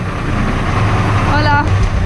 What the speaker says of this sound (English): Look at this big ass truck.